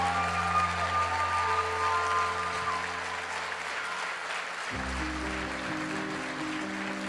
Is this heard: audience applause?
yes